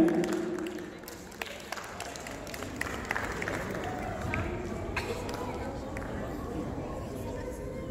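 A crowd at a Pakistan Day function gives scattered, fairly soft applause that lingers unevenly under a general murmur of people in the hall.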